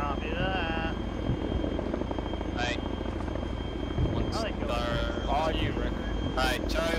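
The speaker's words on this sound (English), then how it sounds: "Delta, move to the chopper" A military helicopter in the ArmA3 shooter game sets up a steady, close rotor and engine drone throughout, with voices talking over it.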